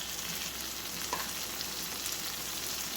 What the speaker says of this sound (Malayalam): എല്ലാം കൂടി ഇട്ട് ഒന്ന് വാട്ടി കൊടുക്കുക.